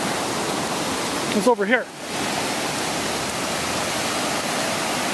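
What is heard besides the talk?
flooded Jewell Brook rushing under a bridge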